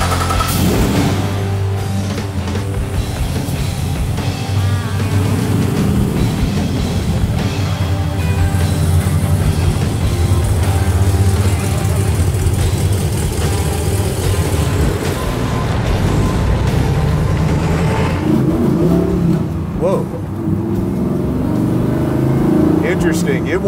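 LT5-powered 1969 Camaro with an 800 hp V8 driving, a steady loud engine drone and rumble filling the clip, with people talking over it inside the car.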